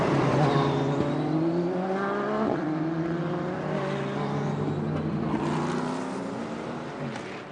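Race cars at the 2002 24 Hours of Le Mans, including MG prototypes, hold a sustained engine drone with rising and shifting pitch as they pass, under steady track ambience.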